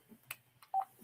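A mobile phone gives a few short, faint electronic beeps and tones in a quiet room, with one clear pitched beep near the end.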